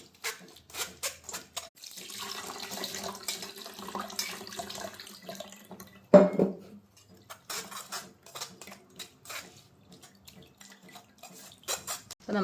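Water pours into a pot of rasam in a home kitchen, a steady trickle and splash rising in the middle, then a sharp clink of a metal utensil, followed by scattered quieter kitchen clatter.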